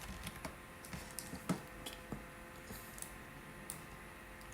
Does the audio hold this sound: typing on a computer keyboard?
yes